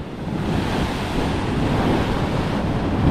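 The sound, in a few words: sea waves hitting boulevard wall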